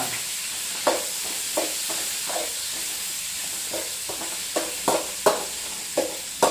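Onions fry in a pan for vegetable biryani with a steady sizzling hiss, broken by repeated scraping stirs of a spoon at an irregular rhythm, close up and without talk.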